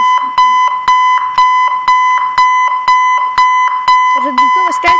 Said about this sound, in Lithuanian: Žadintuvas kelkinis.